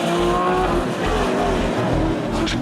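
Race cars roar together off the start of a circuit race from an inverted grid, including a Porsche, at a regional road racing championship round; a loud, continuous engine drone with brief tire squeal near the end, no talk.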